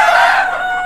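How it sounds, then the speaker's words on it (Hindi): A desi rooster on a goat farm in Khed, Maharashtra crows once, loud and close, a single drawn-out call that tapers off within a second. "ये देसी मुर्गे है, और ये है ब्लैक ऑस्ट्रोलॉप करके, ये ब्रीड है"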